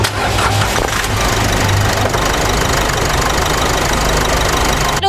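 A 2019 Isuzu D-Max 1.9 diesel pickup engine cranks and catches, then settles into a loud, steady clattering idle close to the microphone.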